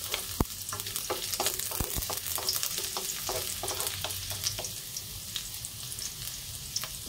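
Garlic frying in homemade coconut oil, a steady close sizzle with frequent sharp crackles and pops and a few stirring knocks, with no one speaking.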